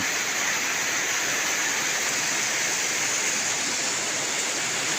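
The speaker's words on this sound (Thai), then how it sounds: "ดีใจครับเห็นฝนตกครับ" Steady, dense rain pours continuously over a rural field in northeast Thailand, a broad even hiss with no breaks and no talking.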